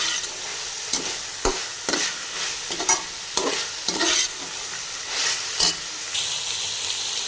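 Shredded cabbage for chicken Chinese kebab fries in a pan under a constant sizzle, with repeated, irregular spatula scrapes and knocks as it is stirred up close.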